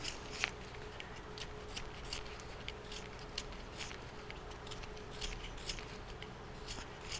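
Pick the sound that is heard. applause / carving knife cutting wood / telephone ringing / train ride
carving knife cutting wood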